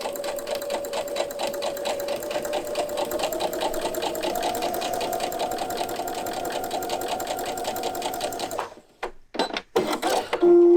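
A sewing machine runs steadily for about eight seconds with a rapid, even mechanical stitching rhythm, then stops, followed by a few handling clunks.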